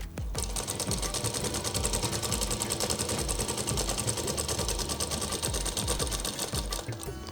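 A sewing machine runs steadily while stitching a double seam on a Patiala kurti, a fast continuous rhythmic whirring that stays even throughout and is heard alone.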